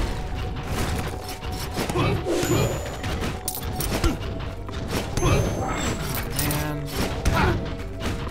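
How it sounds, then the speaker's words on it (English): Dense, chaotic clatter of repeated thuds, crashes and impacts from bombing explosions in the video game Rogue Legacy, continuous and busy throughout with sharp transient hits over a noisy game backdrop. "This is the sound of me being bombed."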